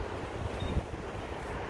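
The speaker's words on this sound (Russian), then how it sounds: "Ой, такой тут ветер, ну ладно." Strong outdoor wind buffeting the microphone, a continuous loud low rumble and roar with no break for the whole stretch.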